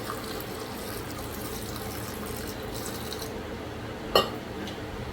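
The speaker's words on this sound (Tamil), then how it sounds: "தண்ணி ஒரு அரை கிளாஸ் ஊற்றிக்கலாம்" Water poured into a mixer jar holding salt and strained tamarind for a coconut-free Madurai chutney, a steady trickling fill running throughout with a brief sharper splash near the end.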